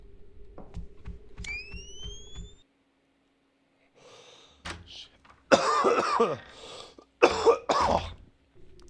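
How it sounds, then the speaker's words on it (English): A man coughs several times, with harsh bursts in two clusters following a quiet stretch, close and fairly loud, after a few earlier game beeps and a rising electronic tone. "Can feel these coughs down in my tumpy"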